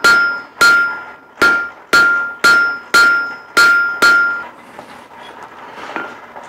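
Hammer blows on hot steel at a blacksmith's forge, shaping a spade point for a spade hook: eight loud, evenly spaced ringing strikes close by, each with a bright metallic ring, then quieter shop noise.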